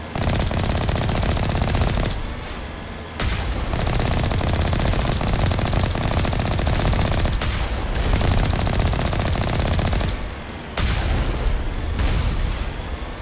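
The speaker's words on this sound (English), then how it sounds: "I like the explosions of the turrets, they look really good." Sustained automatic gunfire and turret explosions from the video game Mass Effect rattle in long loud bursts, broken by brief pauses, with no talking.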